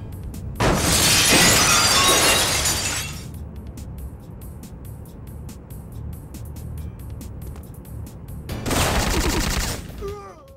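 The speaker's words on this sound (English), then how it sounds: "It even makes an effort to provide cool moments, like dropping through glass into a cutscene." Glass shatters in the PlayStation 1 game Syphon Filter: a loud, bright crash spreading into tinkling debris, a quieter stretch of rumbling game sound, then a second burst of breaking near the end.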